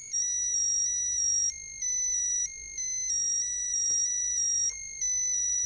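Musical notes from an electronic counter circuit built as a Christmas project play through a small speaker: a stepping sequence of clear, loud electronic beep tones, each held about half a second with brief gaps, and no voices.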